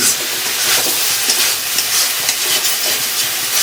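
Eggplant and tilapia masala being sautéed and stirred in a pan (kadai), a steady, loud broadband sizzle and hiss with soft scraping of the spoon, no talking.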